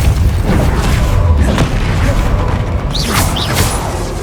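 Spell blasts from the Hogwarts Legacy video game: a dense run of booming, crashing magical impacts and whooshes, loud and continuous, with sharper bright bursts near the end and faint voice traces beneath.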